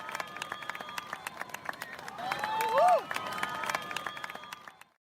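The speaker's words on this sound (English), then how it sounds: "suddenly everyone got to their feet and started clapping just as the sun disappeared into the sea" A crowd on a beach in Brazil applauds the sunset with loose, scattered claps at moderate distance, and a brief whistle-like tone rises midway through.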